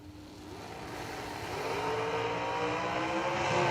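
An old school S&W dragster at a drag race builds in a steady, rising engine drone that grows louder over a few seconds, heard alone without talk.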